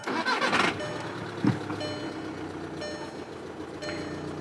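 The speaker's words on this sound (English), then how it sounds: "now we're gonna go ahead and fire it up" A 2012–2014 VW Passat TDI diesel cranks and fires up after an in-tank fuel pump replacement: a brief cranking burst, then a sharp catch and a steady, moderately quiet idle with faint tonal whine.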